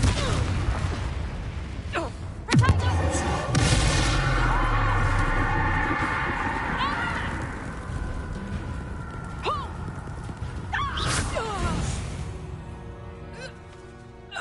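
Confringo and Bombarda spell blasts in the video game Hogwarts Legacy: loud layered bursts and crackling booms over continuous combat noise, with a sharp impact early on and shrill creature-like cries mixed in, with no clear talk.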